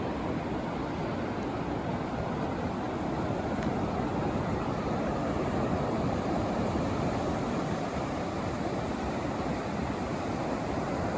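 Rough Gulf surf rolls steadily onto the beach at Galveston Island, a loud continuous wash of breaking waves with no break or talk over it.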